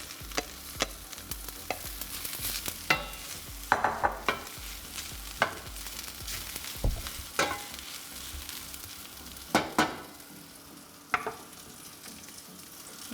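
Vegetables sizzle steadily in a hot griddle pan with olive oil and balsamic vinegar while a utensil stirs and scrapes, with irregular clacks and scrapes over the constant frying hiss.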